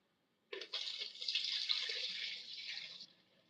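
Carrot juice streaming from a juicer spout into a container, a steady splashing liquid pour close by that starts abruptly and runs for about two and a half seconds before tapering off.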